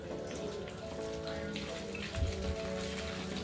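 Cashews fry in melted ghee for bread halwa with a soft, even crackle and sizzle that sounds like light rain, steady and close, with no voices.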